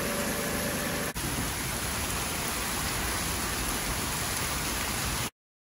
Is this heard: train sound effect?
no